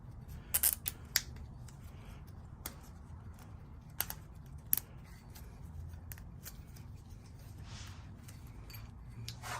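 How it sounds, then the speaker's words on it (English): A zip tie is cinched tight around rocker arms on a K24 engine being torn down, giving a few sharp ratcheting clicks against a low background hum, close up with no talking. "slide the zip tie underneath, and just zip tie them together nice and tight so the pins can't come out"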